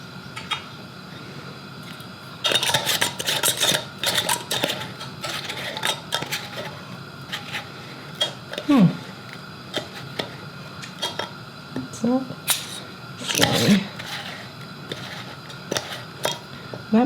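Glass jar lids clink and rattle close by as they are rummaged through for homemade ketchup jars, scattered metallic taps and clatters in uneven bursts, with no voice over them.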